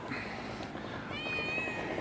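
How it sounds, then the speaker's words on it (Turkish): A pet cat in a camper van meows clearly, a drawn-out rising and falling call close by, with no talking over it. "Bu da benim diğer kedim."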